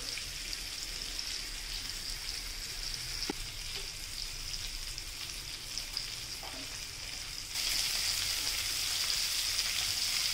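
Pieces of katla fish fry over a low flame in a pan, a steady close sizzle with faint crackles throughout that grows a little louder and brighter near the end, no talking.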